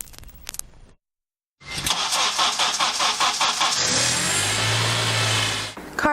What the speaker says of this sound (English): Cars don't want to start.